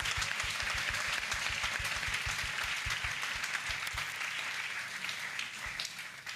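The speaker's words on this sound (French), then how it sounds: "Let's clap for Jesus." A church congregation at a salvation, healing and deliverance crusade in Bafoussam claps for Jesus, a broad wash of many hands with a rhythmic beat at first that loosens and fades gradually.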